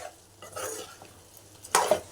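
Mutton tempering in a pan for cucumber mutton curry, a low sizzle with scraping stirs and a sharp burst of frying noise near the end, close and fairly quiet.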